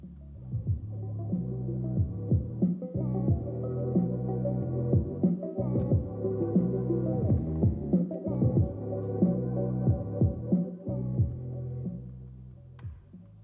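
Music played through a car amplifier with a low pass crossover, leaving only muffled deep bass notes and thumping kick drums in a steady throbbing rhythm, dull and fairly quiet.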